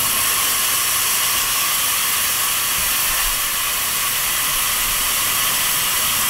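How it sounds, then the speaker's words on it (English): Steam wand frother on a Gemilai 3200D Pro espresso machine, switched off, venting its remaining pressure: a loud, steady, continuous hiss of escaping steam throughout, with no talking. "I'll turn on the knob para ma-release ng frother lahat ng remaining pressure niya"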